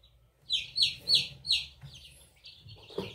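Several bright, high chirps from Índio Gigante chicks come in a quick run of about four calls, then trail into softer peeps over low handling rustle, fairly close and with no talking.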